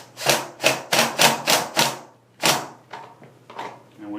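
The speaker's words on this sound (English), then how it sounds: "Now we can tighten this 7/16 up." A 7/16 bolt on an XP1000 belt deflector is tightened with a wrench, giving about seven quick ratcheting rasps in a steady rhythm, then a few softer clicks, close up.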